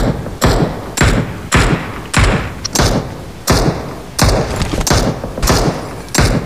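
Heavy thudding blasts from a PUBG scrims match, about ten evenly spaced booming impacts, loud and close, each with a short tail before the next.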